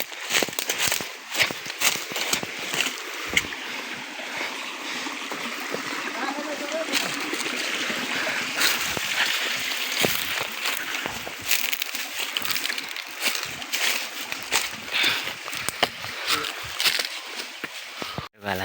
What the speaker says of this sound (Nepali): एउटा सानो खोला रहेछ भेट्यौँ